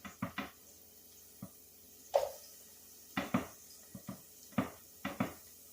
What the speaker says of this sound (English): And we're going to put that in our pan.